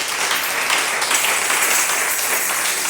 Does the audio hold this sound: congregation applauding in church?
yes